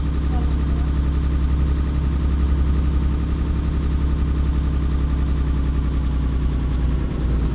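A forklift idles in Euro Truck Simulator 2, its engine a steady, continuous mid-to-low drone with an even vibration that holds unchanged from start to finish.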